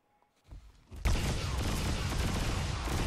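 Video game gunfire in Garry's Mod during an underground battle between DOOM soldiers and Demogorgon nextbots; after faint opening thuds, a loud dense barrage of rapid shots erupts and continues without pause.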